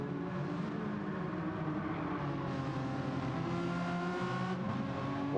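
Race cars lapping a track at night in Gran Turismo 7 drone steadily past near the pit lane entry, engines holding a continuous rising and falling whine.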